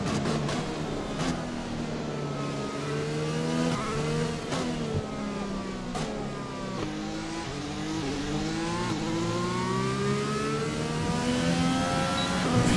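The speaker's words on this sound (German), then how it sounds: "Hier kann nicht gelupft werden, hier wird Vollgas gefahren." A Formula 1 car in the F1 2020 racing game at full throttle around Silverstone, a continuous high-pitched engine wail rising and dipping through gear changes, loud and steady throughout.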